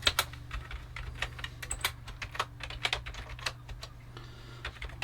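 Quick clacky keypresses on a Sinclair QL computer keyboard while a short program is entered, a close, irregular run of taps over a low steady hum, easing off toward the end.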